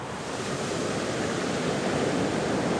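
Sea waves breaking steadily at Ömerağzı beach in Zonguldak, a continuous loud wash of surf with wind noise on the microphone and no voices.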